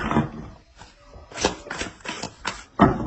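Oracle cards shuffled by hand for a tarot reading: a series of close, rustling bursts in an uneven rhythm, with short pauses between riffles.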